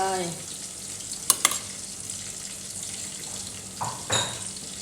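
Chili paste is stirred into a pot of Lao bamboo shoot soup as it fries, a close sizzle with sharp utensil clinks and scraping strokes, without speech.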